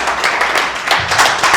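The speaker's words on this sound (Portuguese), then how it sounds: "Vamos aplaudir o Senhor Jesus." Church congregation applauding during a sermon, a dense wash of clapping at steady loudness across the whole moment, with no voices standing out.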